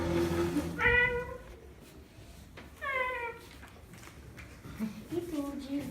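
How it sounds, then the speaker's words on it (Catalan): A cat named Gilbert gives two clear, drawn-out meows, close by and fairly loud, with a fainter third cry at the end, heard over a narrator's voice and light background noise. "en Gilbert es va posar a miaular"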